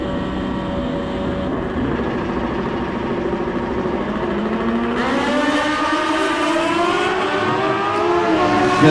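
Drag racing motorcycles at the Mancup World Finals, one a Hayabusa on a 7-inch rear slick, scream off the line together, loud continuous engine roar rising in pitch as they accelerate away.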